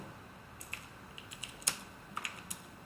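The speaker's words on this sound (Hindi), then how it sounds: "मैं ना कीबोर्ड से ऑल्ट एंटर कर दूंगा" Quiet clicks from a computer keyboard while Alt+Enter is pressed in an Excel spreadsheet: a handful of sparse, separate keystrokes, one slightly louder tap in the middle, all close and with no voices.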